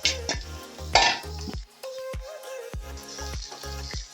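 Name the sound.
stirring poha (flattened rice) in a pan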